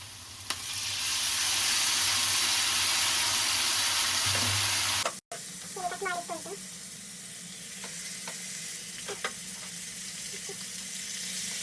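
Fish curry with tamarind frying in a pan, a loud steady sizzle that cuts off abruptly, followed by quieter bubbling and occasional clinks of utensils.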